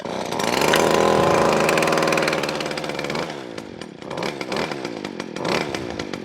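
A Stihl FS40 strimmer's small two-stroke engine fires and runs on choke, a loud buzzing roar that holds steady, then sputters and surges unevenly as it settles, close by.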